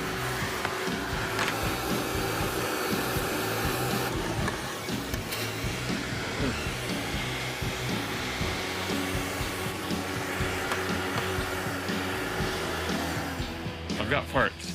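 Vacuum cleaner running steadily inside a car interior during cleanup of an old GT with moldy carpet, a constant droning whine with shifting tones as the nozzle moves, some knocks and rustling toward the end.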